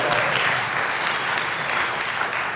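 Moderate, steady clapping from a small audience at a podcast taping with a musician guest, an even wash of applause with no voices over it.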